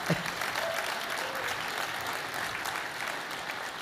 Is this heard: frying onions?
no